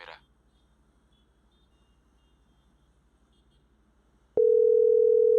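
A phone call that fails to connect: a faint, brief burst at the start, then low background hum, then a loud, steady, unbroken tone cuts in for the last second.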